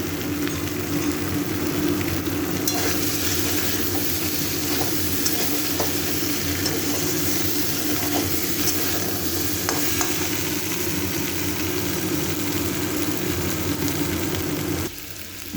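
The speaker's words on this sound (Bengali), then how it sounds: "মশলা ফুলকপি আলু দিয়ে সব কষানো হয়ে গেছে।" Cauliflower and potato pieces with spices and a little sugar sauté in a pan, giving a loud, continuous sizzle with faint stirring scrapes throughout, easing off slightly at the very end; no one speaks.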